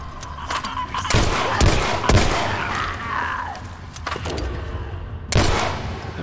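Gunfire in The Last of Us: Left Behind, several sharp, loud shots spaced irregularly over a steady background rumble, with a brief close burst near the end.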